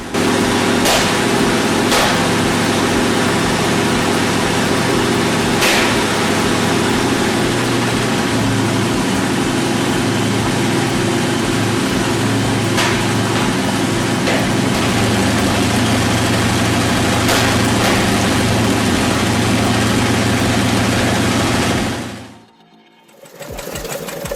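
An old B-17 bomber aircraft engine runs continuously at a steady idle, a loud, even mechanical drone with occasional sharp clicks, before cutting off abruptly near the end and briefly resuming.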